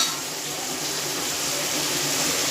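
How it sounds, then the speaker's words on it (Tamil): Heavy rain pouring down, a dense continuous hiss like running water that swells slightly toward the end, steady and unbroken with no voices. "எங்கள் ஊரில் மழை பெய்யுதுங்க, சரியான மழை"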